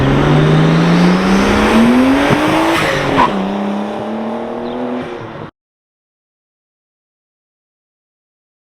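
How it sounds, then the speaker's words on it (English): Nissan R32 Skyline with an RB25 turbo engine accelerating hard outside: a loud, close engine rising steadily in pitch through a gear pull, a brief dip at a shift, then climbing again before cutting off abruptly. "Alright, so that was some pulls from the outside."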